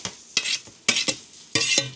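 Onions and peanuts are stirred in a pan with three or four quick, close scraping strokes in a loose rhythm, with little sizzle between them.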